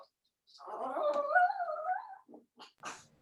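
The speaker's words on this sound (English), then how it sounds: "My dog's not very happy right now." A dog indoors gives a long whining, growling vocalization lasting over a second, followed by a few short yips and grumbles, close and moderately loud.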